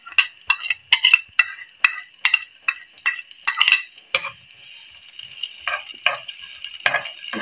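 Chopped onion frying in hot ghee, with repeated stirring scrapes and clinks in the pan over a steady sizzle that stays close and fairly loud throughout.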